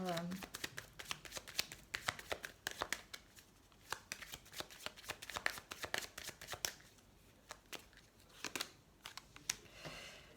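Oracle cards shuffled and dealt out by hand, a rapid run of crisp riffling snaps and flicks that continue steadily throughout, close up, with a voice speaking in between.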